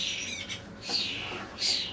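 Rescued ducklings, seven pulled from a road drain, give shrill squawking cheeps in three or four close bursts, fairly faint and unaccompanied.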